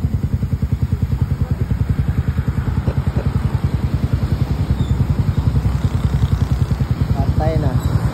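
Motorcycle engine idling close by with a steady, fast, even putter throughout, while people talk over it during a night outing in Barangay Apopong, General Santos City.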